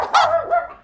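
A single short dog bark sound effect played in the Entry coding tool, one clear, close yip that rises sharply and tails off within a second.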